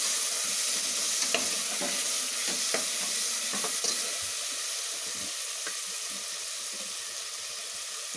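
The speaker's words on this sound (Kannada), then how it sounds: "ಈಗ ನಾನೇನು ಒಂದು ಟೊಮೆಟೊ ಕಟ್ ಮಾಡ್ಕೊಂಡಿದ್ದೆ ಅದನ್ನು ನಾನು ಇದಕ್ಕೆ ಹಾಕ್ತಾ ಇದ್ದೀನಿ." Chopped tomato fries in a pan with oil and turmeric for a sprouted horse gram sambar, a steady close sizzle broken by scattered scraping clicks of a spoon stirring.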